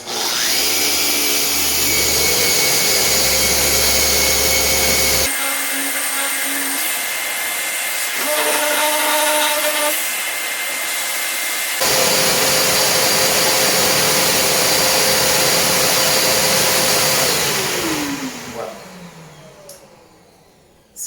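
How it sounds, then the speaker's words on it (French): Orbital sander running over wood veneer, a loud steady whine with a pitch that shifts as the speed changes, then winding down and fading to quiet near the end. "ralentissez la vitesse de votre sableuse orbitale pour s'assurer de ne pas trop être agressif et pas trop passer à travers de votre plaquage."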